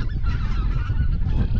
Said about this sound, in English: You can see the geese coming overhead.